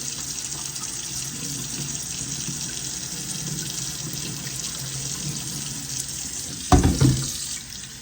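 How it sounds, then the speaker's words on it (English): Cold tap water runs steadily from a faucet over mango bubble pudding balls in a kitchen, a constant hiss with a brief louder splash near the end. "I'm just running them under cold tap water"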